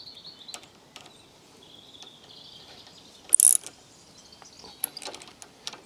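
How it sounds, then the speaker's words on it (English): A bolt is tightened with a small Allen key: faint, intermittent metallic clicks and ratcheting ticks, with one sharper brief squeak midway, in a quiet setting with no talking. "I've got a little Allen key here to get hold of the middle of my bolt, and I'll finish the job"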